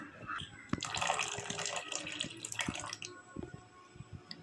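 Water poured from a container into thick homemade dosa batter, a soft splashing trickle for a few seconds that tapers into scattered drips and light stirring taps, close and fairly quiet.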